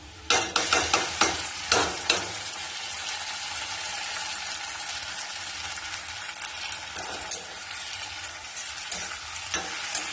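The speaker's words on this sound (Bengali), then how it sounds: "এবার আমি আদা, কাঁচা লঙ্কা, রসুন আর টমেটো সব বাটাটা এবার দিয়ে দিচ্ছি" Onions sizzle in a pan as a paste of ginger, green chili, garlic and tomato is added. Spoon scrapes and clacks come in a quick run at the start, then steady sizzling and occasional stirring follow.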